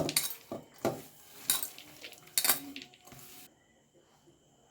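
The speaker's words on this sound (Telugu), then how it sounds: "ఇప్పుడు కాజు, బాదాం, పిస్తా 3 కలిపి వేసుకుంటున్నానండి దీంట్లోని." Cashews, almonds and pistachios dropped into a dish during malai gulab jamun preparation, producing several short, close, clattering hits spread over a few seconds, then quiet.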